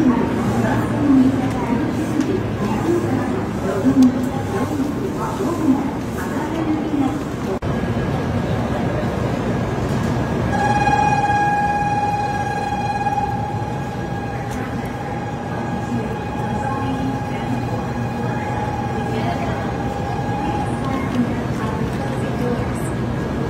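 A train in Osaka rumbles steadily while people chat nearby, and a sustained high tone, like a brake whine or chime, rings out through the latter half.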